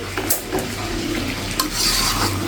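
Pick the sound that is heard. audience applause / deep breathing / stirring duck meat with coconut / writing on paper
stirring duck meat with coconut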